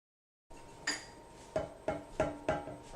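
A spoon clinking against a bowl while sugar is stirred into brownie batter, several evenly spaced ringing taps close by and fairly quiet.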